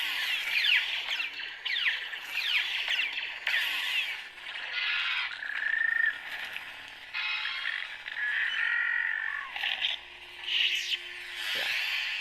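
Buzzing, humming lightsaber sound font effects from an AS2 saber swing and clash repeatedly, with sharp whooshing swells and crackling bursts in quick succession.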